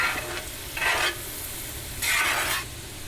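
Onions fry in a pan for home fries, a soft continuous sizzle with two bursts of louder crackle as they are stirred.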